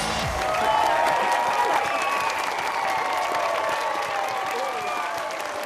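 A crowd applauds at a no-fuel drag race, dense continuous clapping and crowd noise held steady and loud for several seconds under a faint tonal hum.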